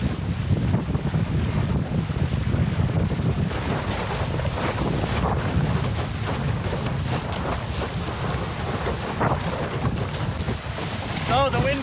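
Steady, loud wind roar buffets the microphone without a break while windsurfing on the open sea in a breeze of about 12 to 14 knots, with rushing water and splashes mixed in close by.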